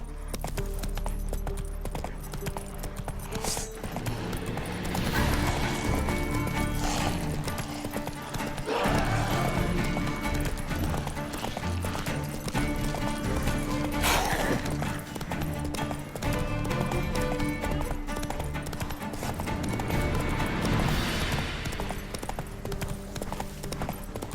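Roach, Geralt's horse in The Witcher 3, gallops in a race with a continuous drumming of hooves, up close and fairly loud, amid wind and game ambience, with occasional whinnies and brief voices.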